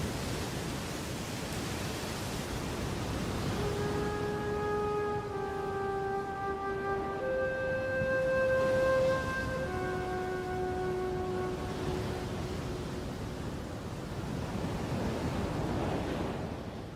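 A storm roars with wind and crashing surf as a continuous broad wash of noise, while a deep horn-like drone sounds through the middle stretch.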